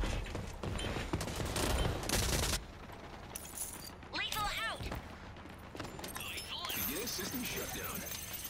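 Gunfire in the video game Rogue Company crackles in a dense volley at first, then in scattered quieter shots beneath players talking over voice chat.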